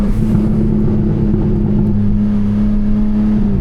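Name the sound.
BMW M4 Competition S58 engine exhaust, no mid-pipe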